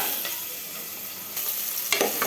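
Onion, carrot and potato with ginger garlic paste sizzling in a pan while being stirred, a loud close hiss with a couple of sharper scraping bursts near the end.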